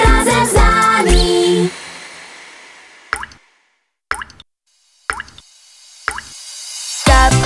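Raindrops dripping in a children's song: a few sharp, separate plops spaced about a second apart, each clear and close, with silence between them, after a short burst of music.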